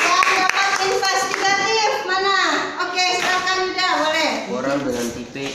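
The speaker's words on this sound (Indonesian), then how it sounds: "Tepuk tangan dulu dong." Students clap in a classroom, a brisk burst of hand claps mixed with the excited chatter and voices of children talking over it, fairly loud and close.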